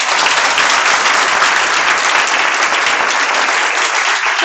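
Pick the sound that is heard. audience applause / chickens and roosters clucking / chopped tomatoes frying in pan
audience applause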